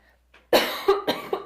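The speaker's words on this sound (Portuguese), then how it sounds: "eu tô com vontade de tossir." A close, sharp cough followed by a few smaller coughs in quick succession, then stillness.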